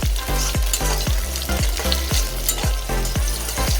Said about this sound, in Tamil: ஒரே ஒரு கொடமிளகாய் மீடியம் சைஸ் சின்னதா கட் பண்ணி அதை போடுறேன். இதை கொஞ்சம் 1 நிமிஷம் வதக்கிக்கணும் நல்லா.